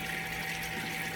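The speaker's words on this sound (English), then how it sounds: "I'm going to pour just a tad." Liquid containing seeds poured in a small splash, a steady watery gushing and trickling sound heard alone at close range for about a second.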